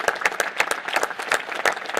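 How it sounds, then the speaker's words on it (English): Applause for a panel at a National Space Council meeting, a steady patter of many hands clapping close and moderately loud for two seconds with no talking. "How about a round of applause for this whole panel?"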